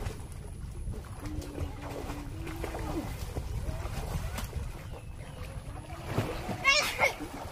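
A child learning to swim splashes in water, with intermittent watery splashes and a louder burst near the end, under an adult voice giving instructions and other voices nearby.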